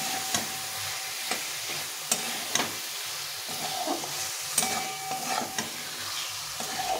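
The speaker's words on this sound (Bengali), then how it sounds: "আমি এই সবটা ছানা দিয়ে দিলাম, দিয়ে একটু কষিয়ে নিতে হবে।" Chhana (cottage cheese) sautéed over a low flame for a potol curry, a soft, steady frying sizzle with intermittent stirring taps and scrapes throughout.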